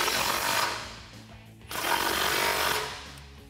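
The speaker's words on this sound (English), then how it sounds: "grab an 18mm socket and tighten them down" A power tool with an 18mm socket drives roof rack bolts on a Jeep Wrangler JK 4-door in two sustained buzzing bursts split by a short pause, loud and close with no talking.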